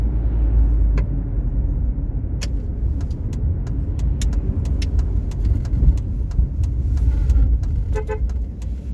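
A car travels down a tree-lined country river road, its engine and tire rumble steady and close throughout, with a few faint higher clicks and chirps from the surroundings.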